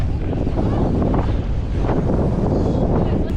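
Strong wind roars across the microphone during a bike ride, a loud, continuous buffeting rumble that fills the whole clip.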